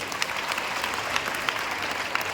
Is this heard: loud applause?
yes